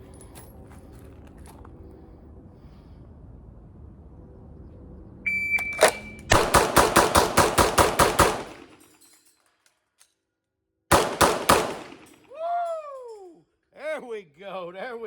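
Pistol shots from a handgun during a timed draw drill, a fast string of about eight sharp reports followed by a pause and a couple more, with electronic timer beeps and chirping tones around them.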